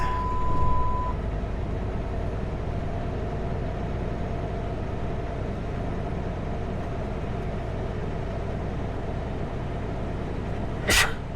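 A single sharp human sneeze, heard inside a moving vehicle near the end. It rises briefly above a steady road and engine rumble.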